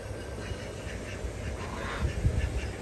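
Geese honk at a farm watering station, several short nasal calls rising over steady outdoor background noise, growing busier toward the end.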